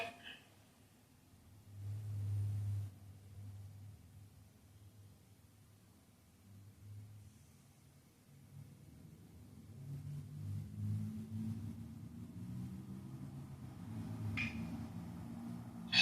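A car rolls along with a low, muffled engine rumble that swells and fades, quiet and steady with a couple of brief rattles near the end.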